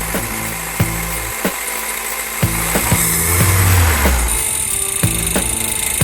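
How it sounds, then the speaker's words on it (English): The rebuilt 22R engine of a 1980 Toyota pickup runs up close, a loud, lumpy idle with sharp periodic knocks and clatters and a brief swell in rumble near the middle. "I got it running today. Listen to this."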